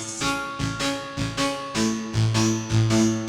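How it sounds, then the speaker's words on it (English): A Boss RC-505 loopstation playing a delay-processed electronic metal sound, with heavy rhythmic pulses repeating about every half second in a dense, distorted loop without talk. "What we do is we add the delay to have this kind of electronic metal sound, you know, something that sounds like this."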